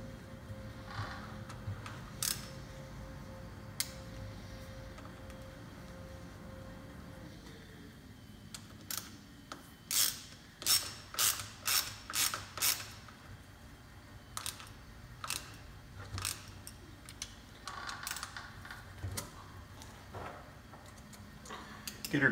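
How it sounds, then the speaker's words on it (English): A ratchet tightens the center bolt on a Ford F150 8.8 front differential during a locker rebuild, giving bursts of sharp, close clicks in quick runs over a quiet background. "Now we're going to install this center bolt. Tighten her down and torque this back."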